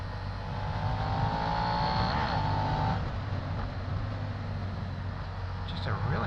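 A Suzuki SV650 motorcycle engine drones steadily while shifting through gears, the pitch rising and then dropping at the change, with a voice talking over it.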